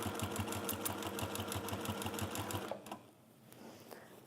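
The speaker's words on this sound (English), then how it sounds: "I'm going to top stitch 1/8 of an inch around." Sewing machine top stitching a bag runs in a steady, fast, close mechanical rhythm for almost three seconds, then stops, leaving faint handling noise.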